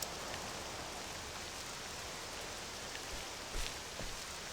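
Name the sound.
purple rain falling in video game Octopath Traveler II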